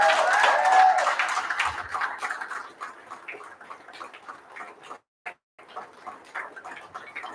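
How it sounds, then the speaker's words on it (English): Applause from a crowd at an apartment residents' general body meeting starts loud and thins into scattered claps that fade and taper off. "Give a huge round of applause, guys."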